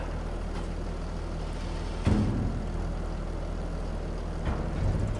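Farming Simulator 25 tractor engine idles in a low, steady diesel rumble with faint mechanical hiss, a brief thump near the middle and a softer one near the end.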